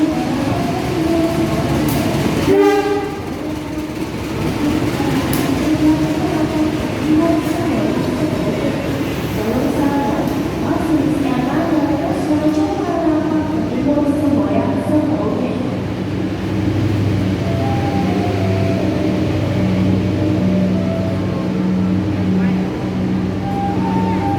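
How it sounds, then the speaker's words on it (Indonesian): The Airlangga passenger train to Surabaya rumbles along steadily, with a brief loud horn blast early on and a sustained horn-like tone later over the rolling clatter. "akan berangkat menuju Surabaya menggunakan kereta api Airlangga"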